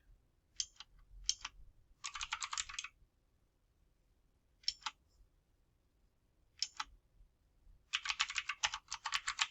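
Bursts of clicky computer keyboard typing come in short taps and longer rapid runs, close and fairly quiet, with pauses of near silence between them and no voices.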